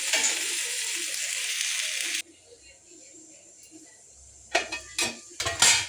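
Drumstick leaves frying in a pan for curry, a steady loud sizzle that cuts off abruptly, followed by quiet and then a few sharp clanks of a utensil against the pan.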